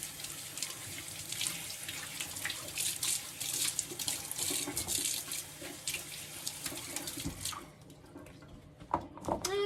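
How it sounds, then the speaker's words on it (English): Carrots are washed under a running kitchen tap, a steady broadband rush of water hitting the sink for most of the clip, then easing to softer splashes and drips near the end. No one speaks. "I'm gonna wash up, oh, let's say 3 carrots."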